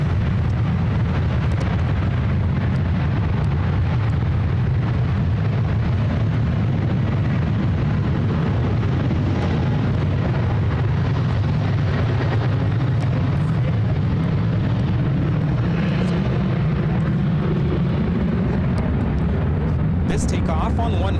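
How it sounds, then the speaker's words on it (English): An Alaska Airlines Boeing 737-900 takes off at San Francisco International Airport, a loud, steady jet roar that holds throughout with broadband rumble and a faint rise near the end. "Takeoff on one right is Alaska 598 taking off to Chicago on the 737-900."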